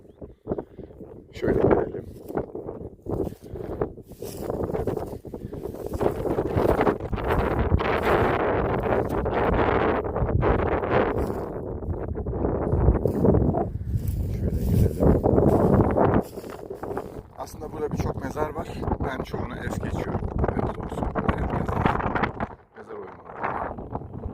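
Strong wind on a mountain summit buffets the microphone in heavy, roaring gusts throughout, with brief lulls and a voice speaking at times under the noise.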